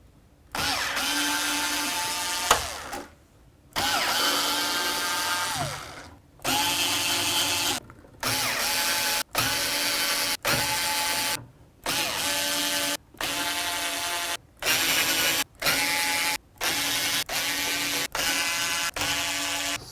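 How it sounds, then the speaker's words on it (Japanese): An electric screwdriver removing screws from the outer casing of an MD deck, with repeated close whirring bursts of a few seconds each, separated by short silent gaps. "外側のこのネジだったり、こういうところ外していって、このカバーを外していきたいと思います"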